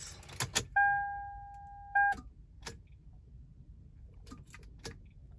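A 2002 Lexus RX300 with a dead battery fails to start: a couple of brief electronic chimes and a handful of faint clicks and clunks sound in a quiet car, with no engine cranking.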